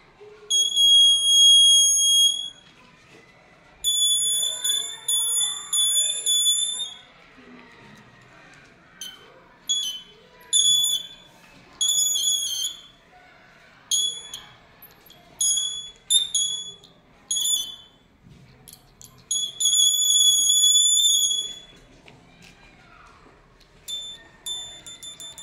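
A small electronic circuit plays four kinds of music in bright, thin beeping tones, with bursts of sustained notes and quick stuttering beep runs separated by short pauses, all heard close up.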